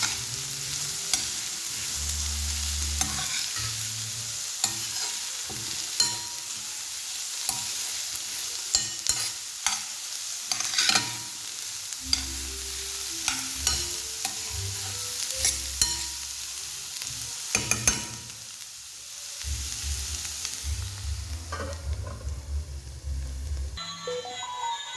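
Onions sizzle and fry in a pan for curry-leaf curry, with repeated scraping stirs of a spoon breaking through a steady hiss, close up and with no voices.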